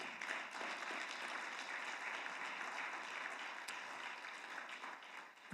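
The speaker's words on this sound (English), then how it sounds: "I'm going to pause for applause for the day you were born, everyone." A church congregation applauding continuously, a dense wash of many hands clapping that holds steady and fills the room, tapering slightly at the end with no voices over it.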